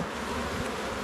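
Honeybees buzzing steadily at an open hive during an August inspection at a vegetable farm, a dense continuous hum close by with no talk over it.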